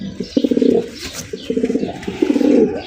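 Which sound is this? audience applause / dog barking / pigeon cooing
pigeon cooing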